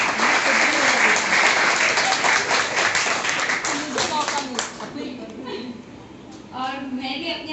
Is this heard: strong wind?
no